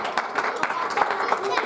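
A church congregation claps during worship, a few quick irregular claps heard close over ongoing singing and voices.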